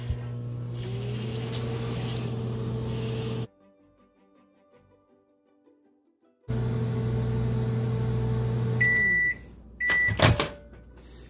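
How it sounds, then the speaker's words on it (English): A microwave oven heating marshmallows in a bowl hums steadily, pauses briefly and resumes, then ends with a series of loud beeps and the clunk of the door opening. "we're gonna microwave it for 1 minute"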